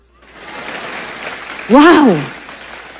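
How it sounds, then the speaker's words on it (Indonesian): A church congregation applauding during a sermon: a soft, steady patter of clapping runs throughout, and a voice briefly exclaims over it near the end. "Sekarang baru tepuk tangan."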